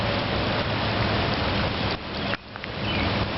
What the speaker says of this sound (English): You can see it's starting to rain again.